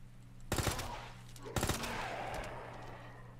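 Two quick bursts of rapid gunfire in the Resident Evil 2 video game, each a cluster of sharp shots about a second apart, over a low steady game ambience.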